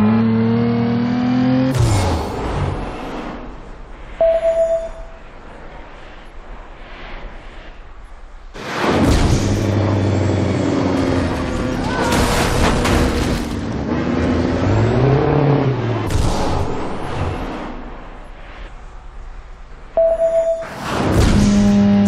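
Car engine revving hard in Driver: San Francisco, with loud surging bursts that rise and fall in pitch between quieter stretches, and brief tonal beeps in the gaps.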